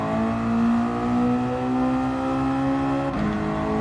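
A car engine in a racing video game, played on a Thrustmaster T80 wheel, holds a high, steady whine as it revs under load, then the pitch drops abruptly near the end as if shifting gear.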